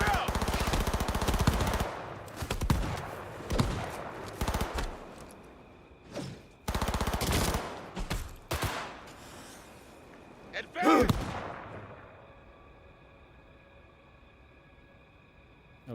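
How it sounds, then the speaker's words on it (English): Gunfire in the game Cyberpunk 2077: loud bursts of automatic fire and single shots, close and punchy, clustered in the first half and then fading to a low hum, with brief talk between shots. "What are you shooting?"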